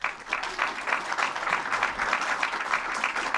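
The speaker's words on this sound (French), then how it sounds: "On peut les applaudir." Audience applause for two speakers at a French talk, a steady, fairly loud patter of many hands clapping with a pulsing rhythm throughout, no voices on top.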